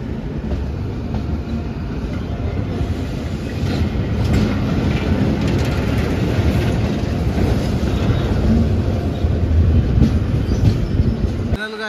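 The Satavahana SF Express rolls around a curve toward Kacheguda, its loud continuous wheel rumble and clatter heard from on board, with occasional brief squeals, building slightly midway.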